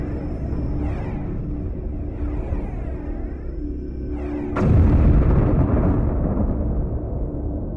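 Heavy ship guns open fire in the space strategy game Homeworld: Cataclysm, a low background hum suddenly breaking into a loud, deep booming rumble that rolls on and slowly fades.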